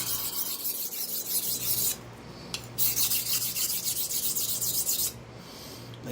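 A Gold Dollar straight razor is honed on a stone with close, steady rasping strokes. The scraping runs almost continuously, broken by two brief pauses.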